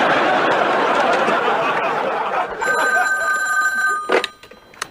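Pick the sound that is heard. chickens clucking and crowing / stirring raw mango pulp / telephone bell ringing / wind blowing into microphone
telephone bell ringing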